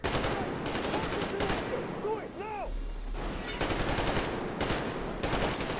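Gunfire in the post-apocalyptic shooter Metro Exodus: several rapid automatic bursts at close range, broken by a short pause with chirpy sound effects, then more sustained firing.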